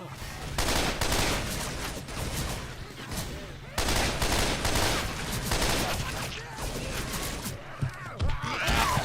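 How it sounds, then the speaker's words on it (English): Heavy gunfire in the Left 4 Dead 2 video game pours out in long, dense automatic bursts, loud and near, with brief gaps and a faint voice under the shooting. "Stop shooting me!"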